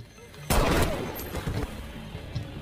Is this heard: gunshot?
yes